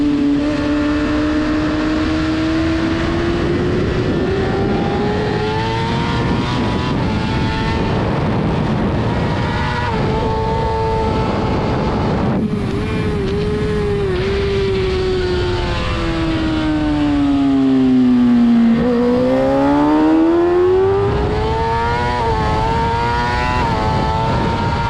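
Onboard a superstock motorcycle racing at Barber Motorsports Park, the engine screams loud and constant, pitch climbing through the gears, dropping under braking and rising again on exit, with no talk.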